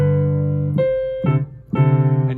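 Piano plays Lightly Row moved to G position, clear sustained notes struck one after another at an easy tempo, close and alone with no voices.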